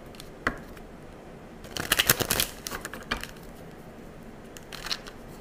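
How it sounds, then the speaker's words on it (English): A deck of tarot cards being shuffled during a reading, heard as a few soft, papery riffling bursts in the middle with scattered light flicks before and after, close and fairly quiet, with no talking. "One more shuffle."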